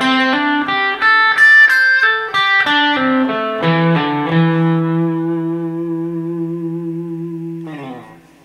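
An electric guitar plays a pentatonic lick in the first position: a quick run of distinct picked notes, then a final note held and left to ring and fade, with a short last pluck. The tone is clean to lightly driven.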